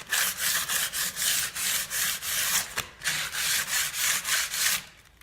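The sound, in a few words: scratching pre-painted timber door frame to create a key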